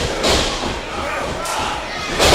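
A wrestling DDT slams onto the mat with a couple of heavy thuds amid a noisy crowd at a CCW Surge show, the impacts loud and close over the crowd's roar.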